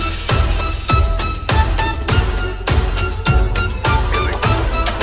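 The original synth lead from a song plays a tight, rhythmic pattern of short, punchy pulsing notes with a bright, buzzy tone, repeating at a steady tempo.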